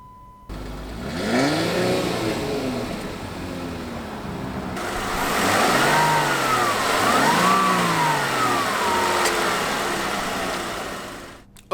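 A 2016 Jeep Wrangler Unlimited Rubicon's 3.6-liter V6 starts, then revs up and down in several rising and falling sweeps before easing back, loud and close with no speech.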